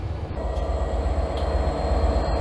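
A train passing close by and loud, a steady heavy rumble of wheels and rail noise through the whole stretch, with a few faint higher clicks over it.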